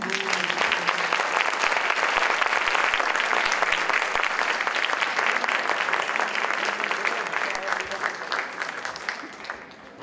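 An audience at a live event applauds in a dense, sustained wash of clapping that holds steady for several seconds and then gradually thins and fades toward the end.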